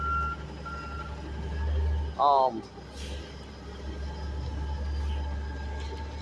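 A garbage truck's reversing beeps sound briefly over steady engine rumble and background noise, with a voice talking nearby.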